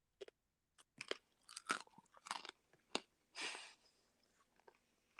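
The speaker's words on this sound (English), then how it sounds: "that sounds so crunchy" Someone chewing a crunchy, sticky, toffee-like homemade snack up close, a series of irregular sharp crunches and bites with brief pauses, loud against near silence, with no talking.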